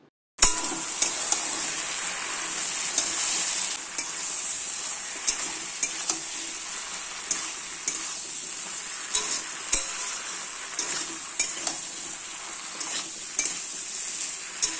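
Potatoes, eggplant and chopped tomato stir-fried with spices in fish oil, a steady broad sizzle running throughout with repeated scraping and stirring knocks of a utensil against the pan, close and fairly loud.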